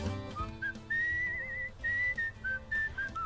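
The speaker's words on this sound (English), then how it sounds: "let me whistle my way there" A person whistling a simple tune in separate short phrases, clear and fairly close, with soft background music underneath.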